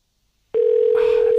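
A single steady telephone ringback tone starts abruptly after brief silence and holds on, loud and close, for an unanswered call.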